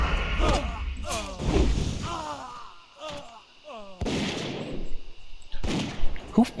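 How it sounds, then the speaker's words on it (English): Gunfire in World of Warcraft crackles as several loud, sharp bursts spread through the moment, heard under and between people talking. "Who's firing the guns?"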